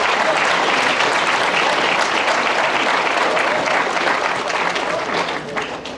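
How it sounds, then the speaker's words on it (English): Clapping for cheerleaders at a high school athletic banquet, a loud and continuous round of applause from the audience that begins to taper off near the end. "Give these cheerleaders a round of applause"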